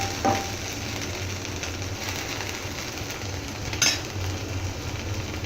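Bambino vermicelli cooks in a pan, sizzling and frying with a steady soft crackle, with a couple of brief stirring scrapes, close and continuous, without voices.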